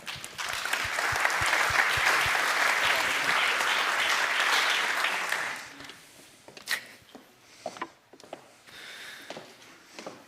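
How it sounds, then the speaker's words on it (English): A conference audience gives warm applause, dense clapping for about five seconds that then fades to scattered claps, shuffling and faint room noise. "Warm applause."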